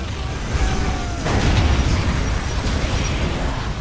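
Basilisk artillery pieces firing forward in a Warhammer strategy game battle, a heavy booming blast that swells into a rumbling roar over a few seconds, loud and close, with mechanical clatter beneath and no talk.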